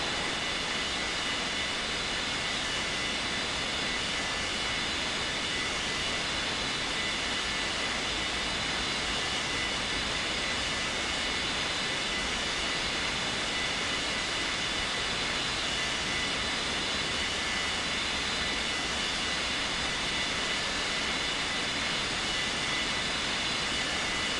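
A jet airliner takes off from a runway, a steady broad engine roar holding at an even, moderate distance throughout with no voices.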